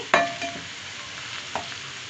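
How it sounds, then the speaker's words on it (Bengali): Okra chips frying in oil are flipped in the pan, a sharp metal utensil scrape and clatter at the start, another softer stir later, over a continuous sizzle. "এক পাশ ভাজা হয়ে গিয়েছে মোটামুটি এখন এগুলো আমি একটু উল্টিয়ে পাল্টিয়ে দিচ্ছি"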